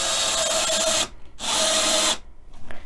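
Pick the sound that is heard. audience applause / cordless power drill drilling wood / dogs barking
cordless power drill drilling wood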